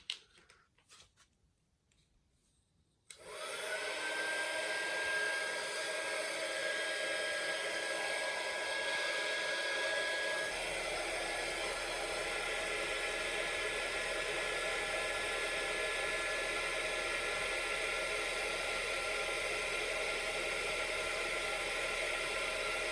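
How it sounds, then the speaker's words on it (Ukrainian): After a few quiet seconds a 300 W hair dryer powered by a DATOU BOSS ZGR-03 inverter switches on and runs continuously, a loud steady whooshing roar that holds unchanged to the end. "Перший етап навантаження фен 300 Вт."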